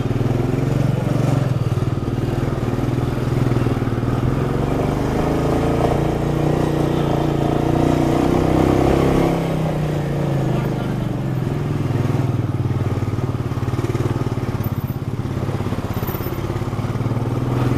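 A motorcycle engine labors steadily in first gear up a steep mountain road on a solo ride from Dalhousie toward McLeod Ganj and Dharamshala, loud, close and continuous with wind rush throughout.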